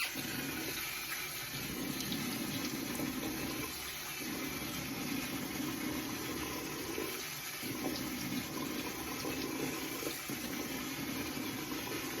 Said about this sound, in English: So let me rinse this off and then we'll put on some PostShave. I like to rinse with cold water.